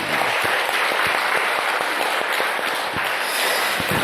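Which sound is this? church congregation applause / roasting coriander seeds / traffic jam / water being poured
church congregation applause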